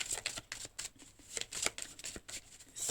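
Oracle cards being drawn and shuffled from a deck, a run of quick, soft papery flicks and slides in close, irregular bursts with no voices.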